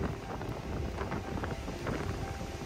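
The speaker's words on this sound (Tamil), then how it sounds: "நல்ல காற்று" A breeze at Rock Beach in Pondicherry rushes steadily across the microphone as a soft, continuous wind hiss and low rumble, moderately quiet, with no voices.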